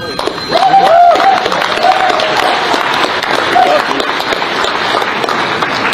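A crowd claps steadily at Leonard Peltier's homecoming gathering with the tribal council, a dense, sustained wash of hands with voices and a brief sung or called tone rising through it.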